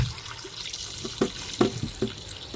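Milkfish (bangus) rinsed under running hot water at a kitchen sink, a steady splashing trickle with a few louder wet splashes as the fish is handled.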